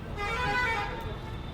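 A Wagon R VXi CNG car horn sounds one loud, sustained honk right up close, holding steady for over a second amid outdoor traffic noise.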